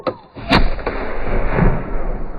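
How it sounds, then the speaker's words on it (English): A button-fired historical gun going off with a single heavy boom, followed by a long rumbling, noisy decay. "One button push, gun goes off"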